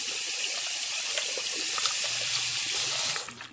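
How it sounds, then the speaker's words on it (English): Tap water runs into a sink as a makeup brush is rinsed after scrubbing, a loud steady close splashing hiss that cuts off near the end. "So at the end of scrubbing it, I'm just rinsing it out the rest of the way."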